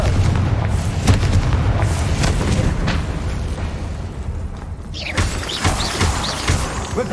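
Confringo fire spell blasts in Hogwarts Legacy, a series of loud booming explosions with crackling, shattering debris, dense and continuous with a fresh burst near the end.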